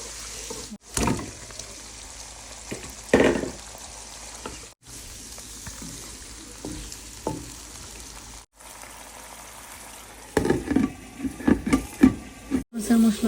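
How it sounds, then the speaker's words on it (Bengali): Spice masala for a fish curry sautéing in a pan gives a moderate sizzle with intermittent stirring clatter and a few sharp cuts in the sound, louder scraping bursts toward the end. "মশলা ভালোভাবে কষিয়ে নিচ্ছি"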